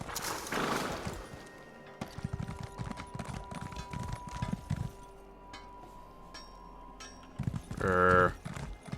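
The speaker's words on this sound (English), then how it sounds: "That guy with the Imperial horse." An Imperial horse in The Elder Scrolls Online, hooves clip-clopping in a quick rhythmic run with metallic clinks of tack, ending in a loud whinny; quiet talk is faint.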